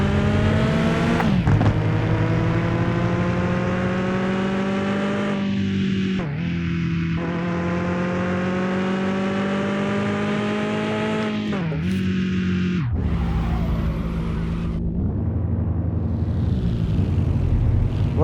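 A stock race car engine fitted with throttle bodies, revving hard in the game Mon Bazou, a loud, sustained whine that climbs through gears with sharp drops at each shift, then eases off near the end.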